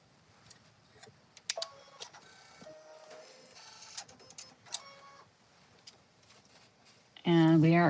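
An embroidery machine stitches down black backing fabric on an appliqué shaker design, with soft rhythmic ticking and clicking, then a loud sustained mechanical whine near the end. Faint voices are present.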